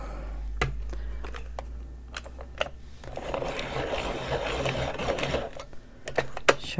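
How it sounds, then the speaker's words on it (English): Coloring pencil being sharpened, a series of small clicks followed by a few seconds of dry grinding and scraping, close and fairly quiet. "Sharpen that up a little bit."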